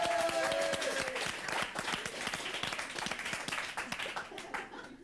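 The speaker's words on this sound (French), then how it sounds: "Je crois que ça mérite quelques applaudissements." Audience applause at a French interview or quiz show, dense clapping filling the whole stretch at steady loudness, with a brief tonal sound near the start.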